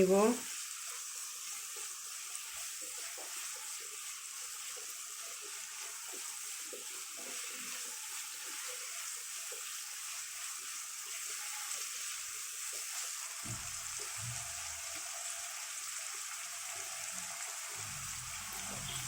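Turmeric-dusted vegetables such as cauliflower, flat beans and sweet pumpkin fry lightly in a pan, giving a steady, even sizzling hiss close by that carries on without pause, with a few soft clatters near the end.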